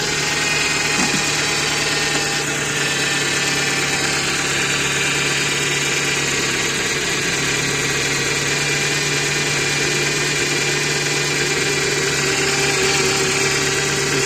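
A Ford Focus 2 with a 1.6 engine idles steadily while its power steering pump whines from a low fluid level, a constant engine hum with a thin, sustained tonal drone running throughout, close and alone with no voices.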